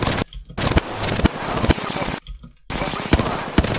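Gunfire in the video game Apex Legends, several sharp loud shots in quick irregular bursts separated by short pauses, each with a bright crack and brief tail.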